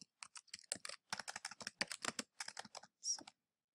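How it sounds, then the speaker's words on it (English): Typing on a computer keyboard, a quick run of separate key clicks in close bursts with brief pauses, ending in one louder, longer stroke; nearby and alone, with no talk. "I'm going to double click to type in my title."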